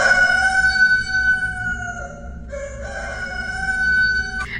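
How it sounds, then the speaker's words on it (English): A rooster-crow alarm sound plays from a website on a computer, heard loud and close as a sustained, harmonic electronic-sounding crow with a short break midway, no talking over it. "insert this clip of her running out the door while the rooster's going off, just so you can hear how intense it is"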